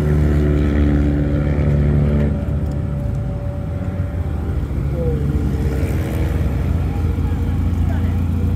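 Amateur race cars, including a Mitsubishi Evo 4 and a 2-litre Alfa 156, run on a circuit in Japan with a loud, sustained engine drone that dips and rises again as cars pass, and a voice talks over it.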